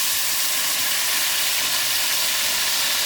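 Onions and garlic frying in oil in a pan give a steady, loud, even sizzle and hiss that holds for the whole stretch, with no voices over it.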